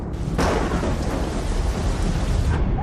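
Video game thunderstorm: a sharp crack of thunder near the start rolls into a sustained, loud rumble over steady rain noise, fading slightly at the end.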